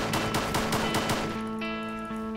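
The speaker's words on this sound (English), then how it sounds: "Hearing gunshots" Rapid bursts of gunfire in the survival shooter Arma 2 DayZ, five or six sharp shots in quick rhythm, then a sustained tonal hum as the shooting stops.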